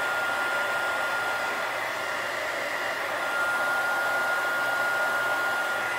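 A heat gun runs steadily on its cool setting after shrinking tubing during a repair on a Jacobsen Homelite RMX 8E ride-on lawn tractor, a continuous loud airy whir with a thin steady whine, no voices.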